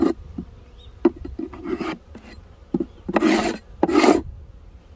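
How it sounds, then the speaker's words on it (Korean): A ground wasp trapped inside a beehive gives off uneven, close-up bursts of raspy buzzing that come and go over a few seconds, with no talking. "땅벌이 안에 들어와갖고"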